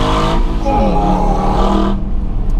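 An Aston Martin AMR revs hard on a twisting road in Monaco, with a loud, close engine note climbing and falling in pitch under brief talk before cutting off sharply.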